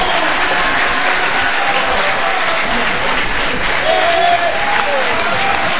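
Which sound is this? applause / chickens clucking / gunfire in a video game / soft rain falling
applause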